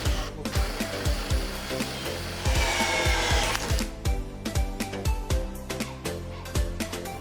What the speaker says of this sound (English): carefully drill through the timber